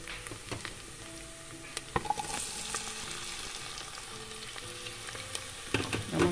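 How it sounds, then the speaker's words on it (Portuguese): Bell pepper fries in a pan for a fava bean and dried beef dish, a constant crackling sizzle with occasional spoon taps and stirring scrapes, close and without voices. "Aí agora a gente vai colocar o pimentão."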